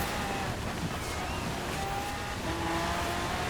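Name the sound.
Lamborghini cars driving in snow, Forza Horizon 4 video game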